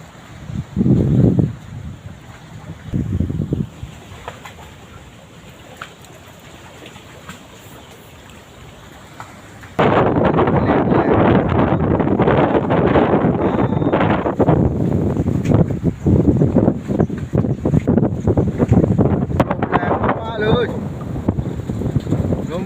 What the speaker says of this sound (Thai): โอ้โหลมแรงมากๆว้าว จะปิวแล้วปิวแล้วทุกคน